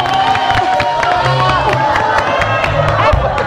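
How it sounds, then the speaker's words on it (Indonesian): Studio audience on an Indonesian TV variety show cheering and whooping after a magic trick, a continuous crowd roar with shouts and scattered claps, fairly loud throughout. "Kasih tepuk tangan dong buat sulap aku."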